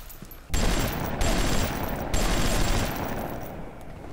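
BioShock gameplay with dense automatic gunfire as sustained, loud bursts of rapid shots. The firing starts abruptly, with brief gaps between the sustained volleys.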